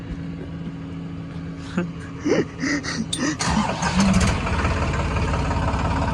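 A 260 HP tractor engine idles steadily nearby, with a few knocks and rattles midway before it settles into an even running hum.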